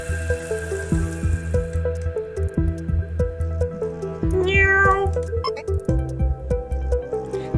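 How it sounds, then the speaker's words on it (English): A cat in the video game RUMU gives a single short meow midway through, set against steady looping electronic music with soft plinking notes. "Oh, so Ada is the cat."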